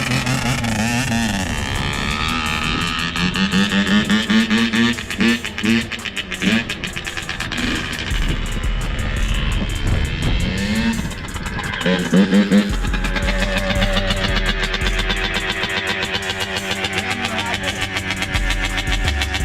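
A dirt bike engine revs and sputters in bursts while a rider is coached on throttle and clutch, with loud, uneven, rising and falling engine noise throughout and voices talking over it.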